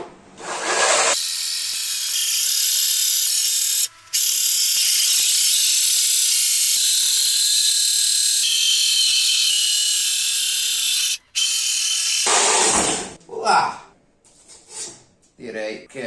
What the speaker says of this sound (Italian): andiamo a posizionare più o meno al centro e andiamo a forare